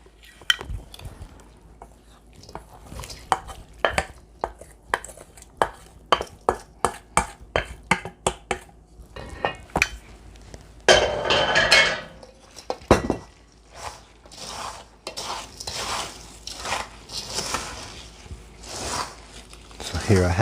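A stuffing mixture is folded together in a bowl for roast quail with Christmas stuffing, giving repeated rhythmic scraping and soft clinks of a utensil against the bowl, close by, with a person talking at times.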